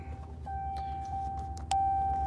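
A Hemi truck engine rumbles low and steady close by, with a thin, continuous whine running above it and a few brief knocks, growing louder near the end as it catches.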